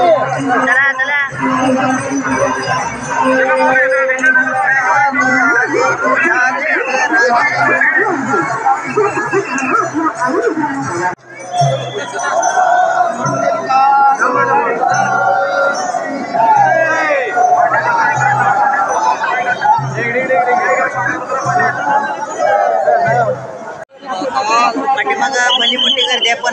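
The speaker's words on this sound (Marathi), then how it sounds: "पाठीमागं भली मोठी गर्दी आहे" Large crowd of pilgrims at the Ashadhi Wari darshan in Pandharpur, a loud continuous babble of many voices close around, with whoops and shouts rising now and then and brief dips in the din.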